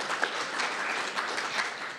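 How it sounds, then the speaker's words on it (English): Applause from an audience at a health ministry research day, thanking the presenters; a soft, steady wash of clapping that stays fairly even for a couple of seconds, somewhat distant and modest in volume. "Can we have a much bigger round of applause for our presenters?"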